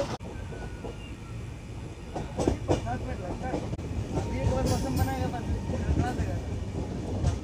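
An Indian sleeper class train runs near Dhanbad in Jharkhand with a continuous rumbling roar, rattles and rhythmic clatter from the carriage, getting slightly louder toward the end, with faint voices in the background.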